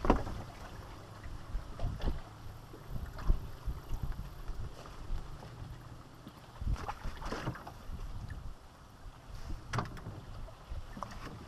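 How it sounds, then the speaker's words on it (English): Wind blows hard onto the bank of a small reservoir, a low rumbling buffeting with gusts that swell and fade, and faint water lapping underneath. "Wind's blowing pretty hard onto this bank"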